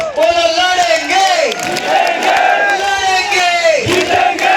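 A large crowd at a Koli community celebration procession for Lord Mandhata roars a loud, drawn-out chant in unison, voices rising and falling in repeated waves with some clapping and whoops mixed in.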